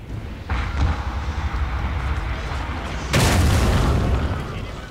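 A musket volley in the game Shogun 2 Total War, a battle rumble building into a heavy booming burst of massed shots that rolls on loudly for over a second.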